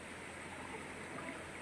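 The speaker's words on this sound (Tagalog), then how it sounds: "dito tayo sa loob ng isang batis" Water rushes steadily through a secluded stream at Baras, Rizal, a constant broadband hiss and burble with no pauses or voices.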